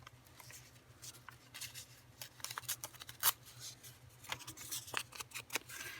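Scissors snipping paper during collage planner crafting, a few quiet crisp cuts and rustles scattered over a faint low background hum, close and alone.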